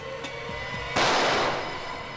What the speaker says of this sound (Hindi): किसी ने मुझ पर गोली चलाई